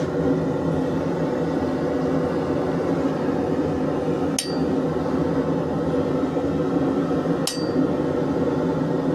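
A hammer striking a chisel while making coat hooks, two sharp metallic clinks a few seconds apart over a steady rumbling background.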